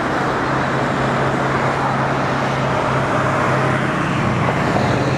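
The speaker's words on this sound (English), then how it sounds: "Here's another one of them buses." A city bus in Panama City rolls along the road with a steady engine drone and broadband roadway rumble, holding fairly loud and close for several seconds amid general street traffic.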